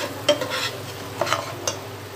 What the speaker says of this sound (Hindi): इसे अच्छे से मिक्स कर लेंगे और इसे भून लेंगे मिक्स करके अच्छे से